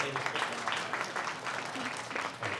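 A crowd claps briefly, a moderate patter of applause that stays fairly even, with a faint voice under it.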